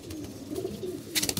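Young pigeons coo softly at a loft in a low, murmuring run of calls, faint and close, with a brief rustle near the end.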